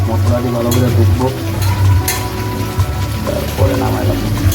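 Chicken masala cooks down in a pan as its liquid dries, with a busy sizzle and stirring scrapes that carry on steadily under other kitchen sounds and voices.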